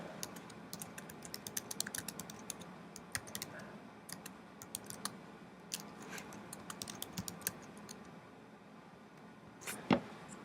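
Rapid, irregular clicking of keys on a computer keyboard, near and steady across the whole stretch, with a slightly louder burst of taps toward the end and no talking.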